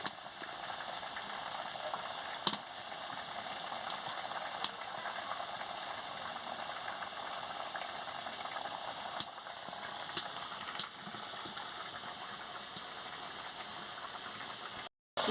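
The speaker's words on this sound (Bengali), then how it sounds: "কি সুন্দর টকবক করে ফুটছে" Spiced curry water for a bata fish and pointed gourd curry boils at a steady, soft bubbling hiss in the pot. A few sharp clicks and taps stand out over the continuous texture, with no talk.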